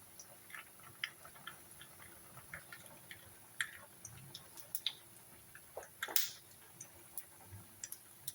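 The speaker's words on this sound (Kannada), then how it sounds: "ಸೊ ಸಾಸಿವೆ ಸಿಡಿತಾ ಇದೆ." Mustard seeds popping in hot oil for a ridge gourd sambar tempering, sharp scattered crackles and ticks coming in irregular bursts, close and fairly quiet, with one louder spatter near the end.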